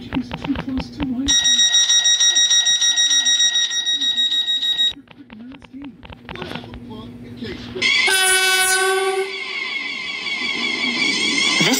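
A video game train passes with a steady rumble and two long horn blasts. A station announcement tone chimes in between, and the sound is loud and close with no talking.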